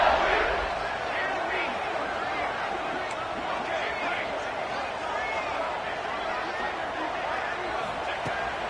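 A stadium crowd in a college football video game roars and yells continuously, a dense, loud wall of cheering and screaming that holds steady throughout.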